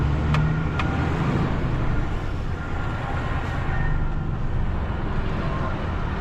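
A recovery lorry carrying an 18-tonne truck on its back rolls along with a steady low rumble and road noise from inside the cab, with a couple of faint clicks early on.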